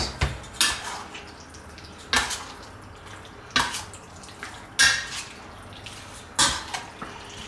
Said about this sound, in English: Now we're gonna mix this up. Okay, let's give this a good mix.